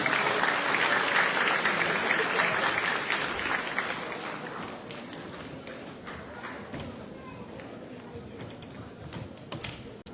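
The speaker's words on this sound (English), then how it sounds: "Give him a big round of applause" An audience at an Islamic lecture on rizq gives a big, sustained round of applause for Dr. Amjad Qourshah, loud and dense at first and gradually tapering off.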